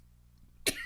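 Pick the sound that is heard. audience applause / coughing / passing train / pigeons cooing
coughing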